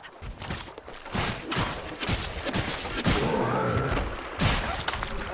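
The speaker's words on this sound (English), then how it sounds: "Lots and lots and lots of exploding" Repeated explosions in the video game Hob, a rapid series of booming thumps and crashes arriving every half second or so, close and fairly loud throughout.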